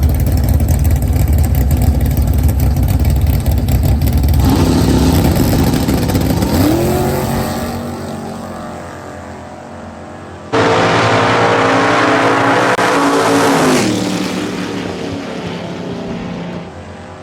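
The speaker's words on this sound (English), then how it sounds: "Get ready to take on the pick 'em up truck of Justin Cesaro." A pickup truck drag racing down the strip, a loud roaring engine that rises through gear changes and fades into the distance, then another surge of engine roar before it falls away.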